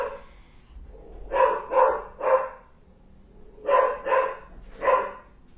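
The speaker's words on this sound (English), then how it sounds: "I don't know why my dog's barking." A dog barks indoors in two bursts of three loud, sharp barks each, with a short pause between the groups and no talking.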